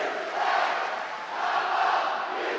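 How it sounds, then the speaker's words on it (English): Home fans cheer at an ice hockey game between the Nottingham Panthers and the Coventry Blaze, a loud, sustained arena roar that swells and dips slightly with no clear speech. "Now the home fans trying to make the effort to cheer their side home."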